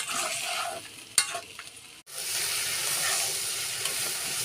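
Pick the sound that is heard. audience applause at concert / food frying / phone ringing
food frying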